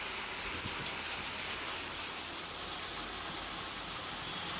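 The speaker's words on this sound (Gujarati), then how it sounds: "સમઢિયાળામાં પણ વરસાદ વરસી રહ્યો છે" Faint, steady rain falls in Botad district, Gujarat, as an even, continuous hiss with no distinct drops or pauses.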